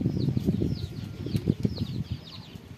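A lone racing pigeon flaps its wings in flight during a race lap at Vigan. The wingbeats are soft and rapid and keep fluttering for a few seconds outdoors, with no one talking.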